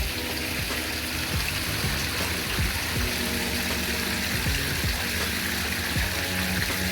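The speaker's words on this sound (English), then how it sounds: "I put on the water for you guys" Water running steadily from a hose or tap in a backyard, a continuous splashing stream loud and close throughout, with light trickling detail on top.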